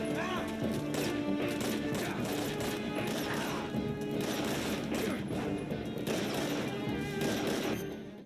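Dense, continuous gunfire and crashing impacts from Metal Gear Solid 3: Snake Eater, bursts stacking over a steady loud backdrop of game music and effects for the whole stretch, with no speech.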